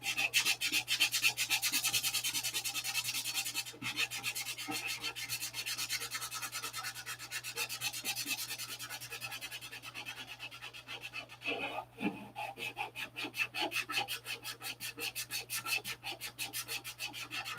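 Sandpaper of 180 grit rubs by hand over a filled, puttied surface in quick back-and-forth strokes, a close, dry rasping that keeps a steady rhythm throughout with a low hum underneath and no talk.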